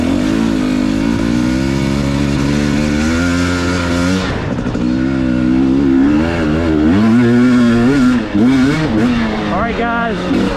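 A 2021 KTM 250 XC dirt bike engine runs steadily while being ridden at Crow Canyon, loud and close, with a smooth harmonic drone that shifts pitch as the throttle rises and falls, and a rider's voice over it.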